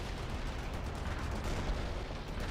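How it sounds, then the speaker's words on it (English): A precision artillery barrage rumbles in World in Conflict, a dense, continuous roar of distant detonations and gunfire at steady loudness throughout. "Let's have some precision artillery right about here."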